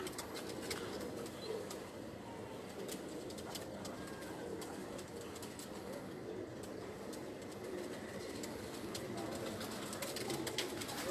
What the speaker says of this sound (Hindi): ये मैंने आपको इनके कुछ कबूतर दिखाए हैं